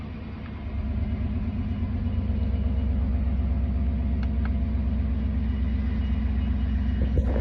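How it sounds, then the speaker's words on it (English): A 1993 Chevy truck engine idles steadily, a low continuous rumble that starts up in the first second and holds even and close for the rest of the clip, with no talking. "we're gonna start the truck."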